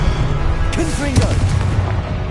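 In Hogwarts Legacy, the Confringo spell goes off as a booming blast amid ongoing game combat noise, with a player's voice shouting over it.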